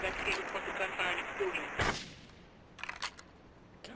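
Gunfire and explosions in Grand Theft Auto III, a burst of sharp cracks and a heavier blast, followed by a few more scattered shots under faint game ambience.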